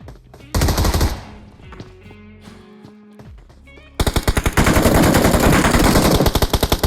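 PUBG Mobile gunfire: a short burst of rapid shots, a quieter gap with game sounds, then a long loud automatic volley of evenly spaced, close shots.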